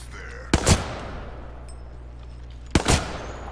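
Two separate gunshot bursts ring out in Apex Legends while a player fires at Nessie, each a sharp loud crack with a short tail, spaced about two seconds apart over quiet game ambience.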